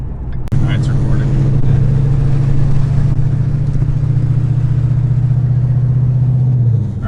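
Supercharged Ford Mustang pulling in second gear from a roll, a loud steady engine drone with supercharger whine held for about six seconds before easing off at the end.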